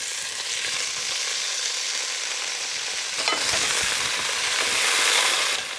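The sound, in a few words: mushrooms frying in olive oil in a pan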